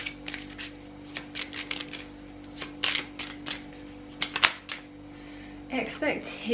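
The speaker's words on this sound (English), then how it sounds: "So I just want to quickly pull a few of these cards here." Tarot cards are shuffled and drawn from a deck, giving a run of crisp, short flicks and riffles at irregular intervals, with a louder rustle of handling at the end. No one speaks.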